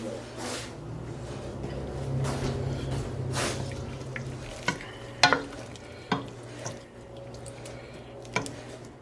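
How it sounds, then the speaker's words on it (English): A simmering pot of liquid bubbling steadily while a spoon stirs through it, with soft scraping strokes and a few sharper clinks against the pot near the end. "we've got a good bubble going there. So I just want to give it a little stir"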